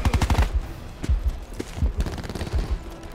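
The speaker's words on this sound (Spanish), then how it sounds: "Disparando a discreción." Rapid automatic gunfire rattles in Call of Duty Black Ops 4 multiplayer, close and loud bursts of quick shots, broken by brief pauses between several volleys.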